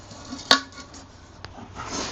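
A large metal camping cooking pot is handled, giving one sharp clang followed by a lighter knock and soft scraping.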